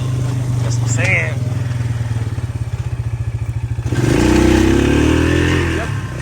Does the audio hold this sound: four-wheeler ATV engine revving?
yes